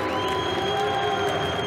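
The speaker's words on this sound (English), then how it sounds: "she's getting a good reception there from the crowd as well" Crowd cheering and applauding a judo bronze medal winner, a dense continuous roar of applause and cheers filling the arena, loud and steady.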